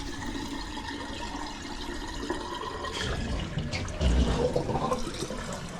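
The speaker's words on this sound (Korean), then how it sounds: "작업 후 물을 내려보니 시원하게 잘 내려가네요" Water runs and gurgles down a freshly cleared kitchen sink drain, a steady wash of flowing liquid that swells louder toward the end, with no talking.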